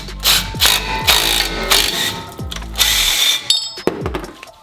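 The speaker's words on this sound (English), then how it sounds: "we're gonna take our bolt and run it into the threads, and this is essentially going to press the rotor off of the hub assembly" Bolt being threaded into a rusted brake rotor on a Toyota Tacoma hub to press it off, heard as a run of sharp ratcheting clicks and metallic clanks in short bursts, loud and close.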